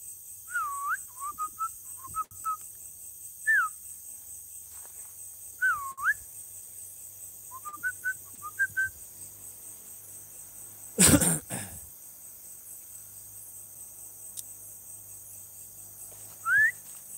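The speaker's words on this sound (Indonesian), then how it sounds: "Saya sambil siul ya, teman-teman." A person whistles at night outdoors in short, rising and falling phrases separated by pauses, over a steady insect drone, with a cough-like burst in the middle.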